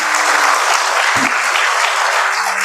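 An audience at a tribute event honouring heroes of the state electricity company breaks into sustained, dense applause, steady and loud from start to finish.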